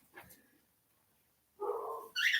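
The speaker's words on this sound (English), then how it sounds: "The dog is so loud." A dog barks loudly indoors in two short bursts with a quiet gap before them, and a faint yelp comes at the start.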